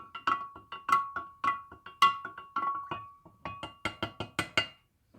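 A homemade herbal hair rinse stirred in a container produces a rapid series of bright glassy clinks and taps, close and fairly loud, in an irregular rhythm.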